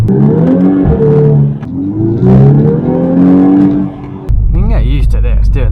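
Volkswagen R36 with a DSG gearbox accelerating, picked up by a dash cam, with a loud rising engine drone whose pitch climbs through gear changes, then a sharp cut to a different noisy section near the end.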